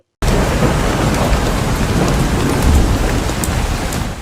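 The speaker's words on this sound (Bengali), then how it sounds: "হঠাৎই বজ্রপাত তার উপর পড়ল" Steady heavy rain pours down with a constant roar in an animated cartoon, and low rumbles of thunder roll underneath, loud and unbroken.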